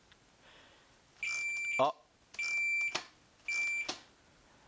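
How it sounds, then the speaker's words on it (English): Three electronic beeps from an Arctic Cat snowmobile safety switch, each about half a second long, evenly spaced with short gaps, sounding close by; a voice makes a brief exclamation. "Engine can't run unless that beeps."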